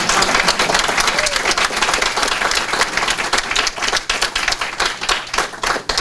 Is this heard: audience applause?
yes